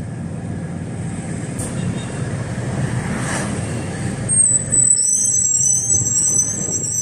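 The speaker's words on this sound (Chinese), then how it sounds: "观光巴士发出" Double-decker open-top sightseeing bus in Tianjin pulling away beside the Hai River, a steady low engine rumble with rising traffic noise and a high whine near the end.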